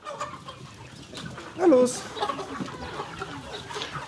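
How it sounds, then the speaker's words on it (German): Several hundred roosters and hens in a crowded farm henhouse cluck and squawk together in a dense, steady din, with a louder squawk midway and a voice speaking briefly over the flock. "Dafür müssen mehrere hundert Hähne und Hennen erst einmal durch diese kleine Luke in den Nebenraum."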